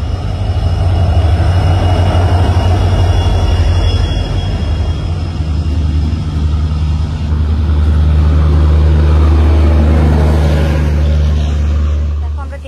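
Passengers board a train bound for Kolkata amid a loud, steady low rumble of engines with faint tonal whines, continuous throughout, with voices murmuring underneath.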